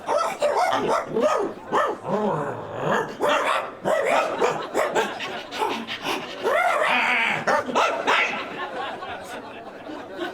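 A comedian on stage at a Las Vegas comedy show imitates a dog, barking, growling and whimpering loudly and up close in a rapid series of yelps.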